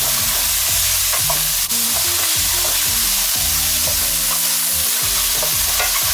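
Peppers fry in a hot pan while being stirred, with a steady loud sizzle and repeated scraping, clattering strokes of the utensil against the pan throughout.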